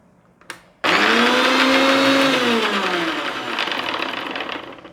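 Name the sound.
electric mixer grinder blending mayonnaise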